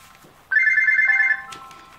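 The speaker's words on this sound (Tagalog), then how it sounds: "Uy, telepono." A telephone rings once with a single electronic trilling tone, clear and fairly close, starting suddenly and stopping after about a second over a quiet background.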